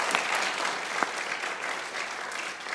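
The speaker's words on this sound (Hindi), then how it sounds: "बहुत तालियां बजाइए लाला के लिए भाई," Audience applause for cricketer Shahid Afridi during a comedy cricket show, a steady, moderately loud wash of clapping with no speech over it.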